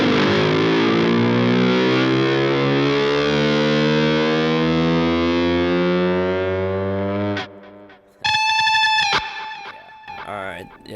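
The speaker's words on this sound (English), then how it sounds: "Yeah, but that was the lead guitar part." A Jackson electric guitar with a floating bridge plays a sustained, distorted lead line, loud and alone, ending around seven seconds before a few brighter, choppier chords and notes follow.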